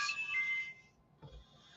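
Mobile phone ringtone chiming with bright tones for roughly the first second, then fading out, followed by a soft thump.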